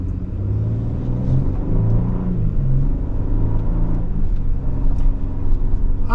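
Steady low engine hum and road rumble from a 2025 Infiniti QX80 Sensory 4x4 SUV cruising on back roads around Flemington, continuous and moderately loud with no talking.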